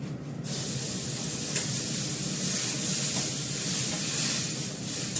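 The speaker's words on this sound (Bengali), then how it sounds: "সুজিটা ভাজা আছে, বেশি নাড়াচাড়া করতে হবে না, জল দিয়ে দেবো এর মধ্যে" A loud, continuous hiss and sizzle of water poured onto roasted semolina in a hot pan, steady and close throughout.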